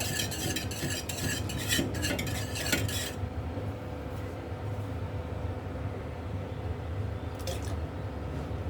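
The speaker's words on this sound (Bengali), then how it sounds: "আস্তে আস্তে করে দিতে থাকবো আর নাড়তে থাকবো যেন জমাটটা না বাঁধে" Custard being stirred in a pot, with a busy stretch of rapid spoon clinks and scraping for about three seconds, then a quieter low simmer with a faint clink near the end.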